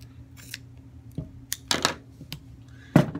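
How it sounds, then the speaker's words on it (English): Scissors snip through a short strip of tape in a few quick, close cuts, with sharp rustling bursts between quieter pauses. "What you're going to do is you're going to cut off a piece of tape"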